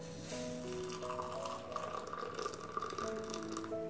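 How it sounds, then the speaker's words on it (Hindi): Hot, nearly boiling water pours into a cup with a spoonful of instant coffee, a steady trickling splash with a gently rising pitch as the cup fills. "हाफ कप मैं इसमें डालूंगी पानी"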